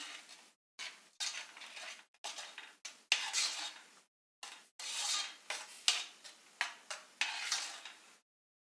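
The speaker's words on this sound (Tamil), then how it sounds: "இப்போ சுகரும் இந்த ஆப்பிள் பேஸ்ட்டும் நல்லா மிக்ஸ் ஆகட்டும்." Sugar is stirred into apple paste in a pan for homemade apple jam, heard as a series of short, irregular scraping and clinking strokes of a utensil against the pan, separated by brief silences, fairly close and with no talking.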